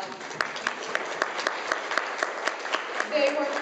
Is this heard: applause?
yes